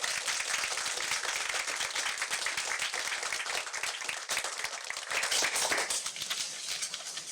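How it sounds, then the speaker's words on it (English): Sustained applause from the gathered audience at a town board of commissioners meeting, dense steady clapping filling the room for several seconds without any talk. "One more round of applause."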